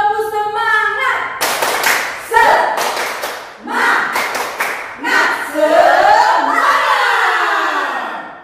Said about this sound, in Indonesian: Coba dulu tepuk semangat.